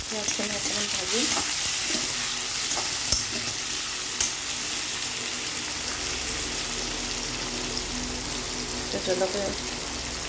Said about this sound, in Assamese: পিঁয়াজখিনি অকণমান ভাজিম।